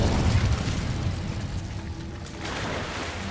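A flaring Incendio spell in Hogwarts Legacy gives a dense, booming whoosh of fire. It rumbles steadily for a few seconds, dips briefly, then surges again. No voices.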